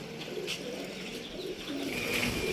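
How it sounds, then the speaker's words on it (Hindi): Pigeons kept on a rooftop loft coo softly amid a broad outdoor hiss, faint repeated low calls with an occasional chirp, no talking. "ये कबूतर अभी भी घूम रहा है इधर ही।"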